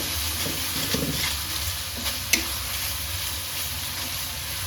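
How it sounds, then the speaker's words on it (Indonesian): Spice paste sautéing in a pan that still holds traces of fried anchovies, giving a steady soft sizzle and hiss with light stirring scrapes and one sharp clink of utensil on pan. "Kita tumis sampai harum."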